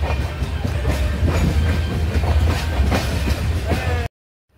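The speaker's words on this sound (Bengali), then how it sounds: "একের পর এক স্টেশন ক্রস করে আমাদের ট্রেন চলছে" Howrah–Kanyakumari superfast express (12665) rolling along at night, a steady loud rumble with rhythmic wheel clatter and faint hiss throughout, cutting off abruptly near the end.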